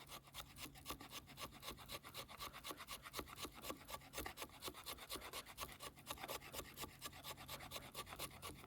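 Steady back-and-forth sawing through wood with the small saw of a Victorinox Ranger Grip pocket knife, rapid regular rasping strokes, close and continuous throughout.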